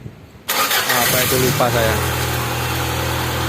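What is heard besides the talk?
1992 Honda Accord Maestro fuel-injected car engine starting and idling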